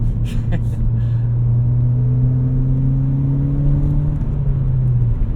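A Ford Fiesta ST with about 240 hp and 240,000 miles droning steadily from inside the cabin, its low engine note holding and slowly rising under load, with a brief voice near the start.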